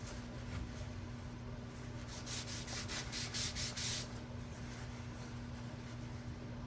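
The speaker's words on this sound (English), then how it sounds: "We're going to wax down here real well." Paste wax rubbed onto a sliding dovetail joint in an ash dining table, making faint, close scuffing strokes that briefly quicken into a rhythmic run over a steady low hum.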